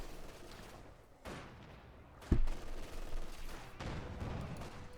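Machine gun fire in the Company of Heroes 2 real-time strategy game: scattered bursts of gunfire crackle faintly in a muffled battlefield mix, with a sharper shot near the middle and rumbling activity continuing afterward.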